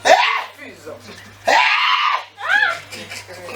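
A preacher's voice imitates a dog's barking and yelping in three loud, strained bursts during a sermon, with a steady low hum underneath.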